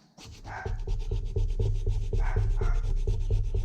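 Rapid rhythmic rubbing as the edges of a metal guard are filed or sanded to round them, close and steady with short back-and-forth strokes and no voices.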